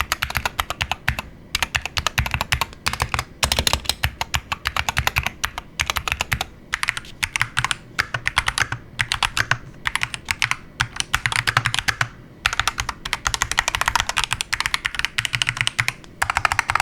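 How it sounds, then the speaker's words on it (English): Typing on DrunkDeer G60 and Wooting 60HE 60% keyboards: rapid, dense clacking keystrokes in bursts with brief pauses and occasional louder spacebar thocks, close and continuous, no speech. "drop a sound test comparing the Wooting 60HE to the DrunkDeer G60"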